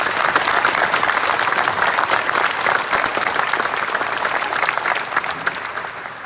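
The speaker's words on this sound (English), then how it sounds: "Please give a round of applause to the special guest who joined us today." An audience at the swearing-in ceremony for Sacramento's first female police chief gives a round of applause for a special guest. The sustained clapping is steady and dense, then fades slightly near the end.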